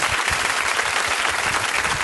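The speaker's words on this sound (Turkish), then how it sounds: "Büyük alkışlarınızla." An audience at an ancient theatre in Patara applauds an arriving guest, steady, dense clapping from many hands that fills the space continuously without a break.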